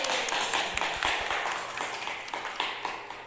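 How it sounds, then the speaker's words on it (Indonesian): A small group at an SDN Ciawi elementary school teachers' learning-community meeting claps for a presenter returning to her seat: a brief, scattered patter of hand claps, moderately close and fairly soft, with no talk over it. "silahkan kembali ke tempat dan berikan tepuk tangan untuk Ibu Intan."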